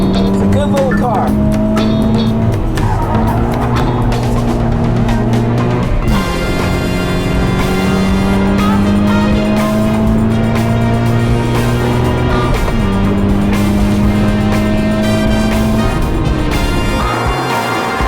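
A crossover car is driven hard around a race track at about 90 mph, its engine droning steadily with repeated rising and falling pitch sweeps as it shifts and slides, loud and continuous throughout.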